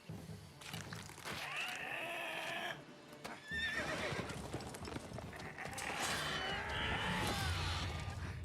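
A horse in The Witcher 3 whinnies and neighs loudly several times over clip-clopping hooves, with splashing water and game sounds around it and no talk.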